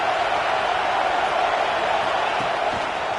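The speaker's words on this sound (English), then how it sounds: "This crowd bringing the energy and noise early." Stadium crowd at a college football game between Nebraska and NIU, a steady, dense roar of many voices filling the whole stretch without a break, loud and continuous.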